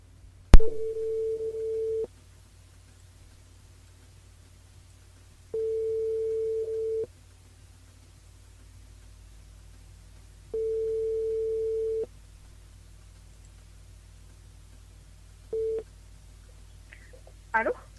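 Telephone call-progress tones sound while a call is placed to a radio station's switchboard: a sharp click, then long repeating ringback beeps separated by silences, steady and clear, with a short final tone and faint noise at the end.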